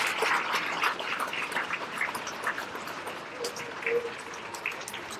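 Crowd applause at a high school boys basketball senior night in a gym, a fairly faint, steady patter of clapping that continues throughout with some scattered crowd noise.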